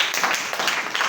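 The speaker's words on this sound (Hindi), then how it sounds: "ताली बजाएंगे" A group at a church Bible study class claps hands together in dense, continuous applause for about a second, moderately loud.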